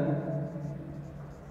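Chalk or marker strokes on a classroom board during an accounting lesson make a continuous scratchy writing sound over low room hum.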